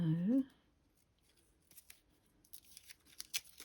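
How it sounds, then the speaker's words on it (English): A brief voice at the start, then quiet snipping and crinkling as scissors cut paper for a Christmas shaker card in short, soft bursts. "Scissors."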